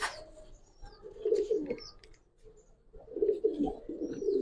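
Giribaz pigeons coo close by in two soft, rolling phrases separated by a short pause, with nothing else heard.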